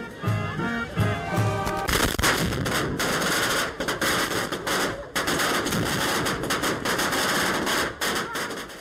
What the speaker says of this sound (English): lighting a huge 50-meter-long strip of firecrackers